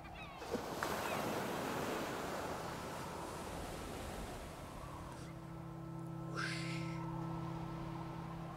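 Video game water waves wash in a broad rushing surge that slowly ebbs, then settle into a steady low hiss with a faint tonal hum underneath.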